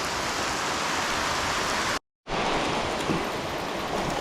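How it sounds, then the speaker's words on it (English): Hard rain falls in a dense, steady hiss during a fishing trip in a rainstorm, loud and continuous apart from a brief dropout near the middle. "there comes the hard rain"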